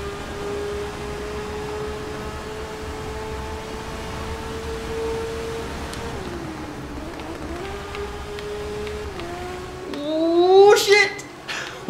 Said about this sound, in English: the bikes sound good. So I'll shut up and you can listen to the engine